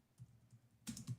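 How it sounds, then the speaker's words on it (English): Someone types on a computer keyboard, soft scattered keystrokes close by, then a louder burst of quick clacks near the end; no talking. "Just typing."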